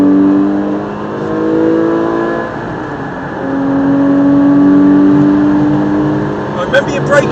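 A race car accelerates hard on the Silverstone circuit, its engine note climbing steadily in long sustained harmonic sweeps as it comes back on the throttle, loud and close throughout with no pause.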